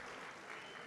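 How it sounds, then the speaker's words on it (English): Audience applause at a 2022 pitch competition: a short, faint, steady wash of clapping from a crowd, with no voices. "Can I get a round of applause for Pitch Dingman 2022?"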